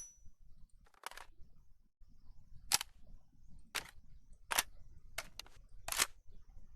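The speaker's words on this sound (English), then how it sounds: "This sound may or may not be like a bolt release or whatever." Sharp mechanical clacks from a Payday 2 gun bolt release effect, about seven isolated crisp snaps spaced irregularly over several seconds, close and dry against a quiet background.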